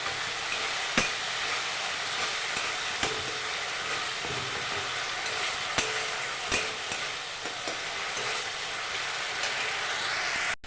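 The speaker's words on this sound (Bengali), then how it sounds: "দিয়ে দিলাম ধনিয়ার গুঁড়ো আর জিরের গুঁড়ো, ভালো করে কষিয়ে নেব।" Coriander and cumin powder frying in oil in a pan for egg curry, a dense continuous sizzle with occasional sharp scrapes and knocks of a spoon stirring, close and steady with no talking.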